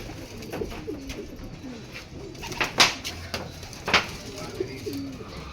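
Pigeons cooing at a training loft in Tiaong, Quezon, soft repeated coos scattered through the clip with a few sharper bird sounds, while people talk quietly in the background.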